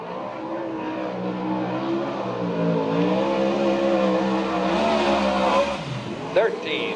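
A USAC/CRA sprint car engine revs loudly through a qualifying lap at Santa Maria, California, rising and falling in pitch as it passes, heard under an announcer's voice over the public address.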